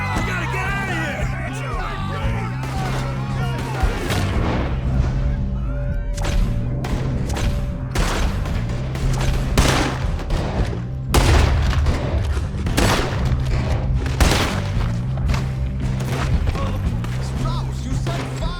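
Gunfire in Red Dead Redemption 2 during a ferry robbery: a dense, continuous volley of close, sharp shots and heavy thuds keeps cracking throughout, while voices shout and talk over the shooting.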